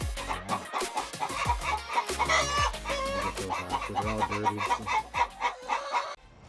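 Chickens cluck and squawk close by in a backyard run, a dense, busy flock chattering continuously with overlapping calls and a brief crow-like cry, while a person speaks briefly among them.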